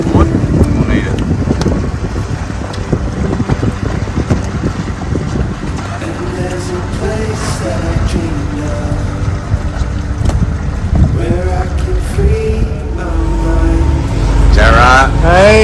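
A sailboat under way on a calm day with its sails up, carrying steady wind rush and water noise close to the microphone while people talk intermittently over it.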